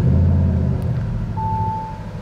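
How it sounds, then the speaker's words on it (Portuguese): An Audi RS7 Sportback V8 engine cranks and catches, settling into a deep, loud rumbling idle with a steady low throb, recorded close up. "Escutou o som do V8?"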